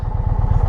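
Indian Challenger motorcycle launching hard, a loud close engine with rapid pulsing exhaust beats over a brief burst under acceleration.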